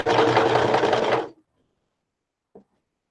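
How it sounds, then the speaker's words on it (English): A sewing machine runs a short, loud burst of stitching on a fabric clutch, then stops abruptly, followed by silence and one faint click. "you can see it's sewing just fine"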